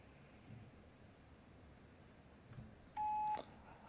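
A single short, clear electronic voicemail beep sounds after a quiet pause on a phone line, steady in pitch and lasting under half a second, with faint background hiss and no speech.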